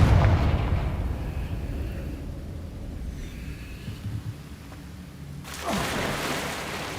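Confringo spell blast in the Hogwarts Legacy video game: a heavy rumbling explosion at the start that fades into a long low roar, then a second burst and rumble near the end.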